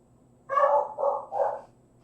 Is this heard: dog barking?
yes